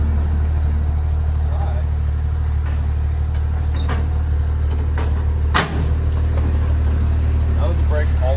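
A custom 4-link Jeep YJ's engine runs steadily on its first drive, a loud low rumble throughout with a few sharp clicks and knocks over the top.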